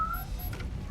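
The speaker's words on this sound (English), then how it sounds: "Kitty! Where's Kitty?" A single brief cat meow comes from a video game, a short high call heard over a dense, steady game soundtrack.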